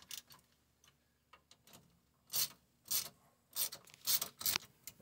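Hand ratchet clicking as it snugs the rear differential cover bolts on a 2003 GMC Sierra 1500: faint scattered ticks first, then several short, close bursts of rapid ratcheting.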